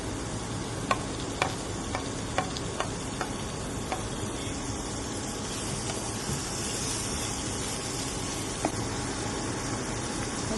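Tomatoes frying in a pan with cooked onions, a soft steady sizzle with scattered light clinks of a spoon stirring against the pan.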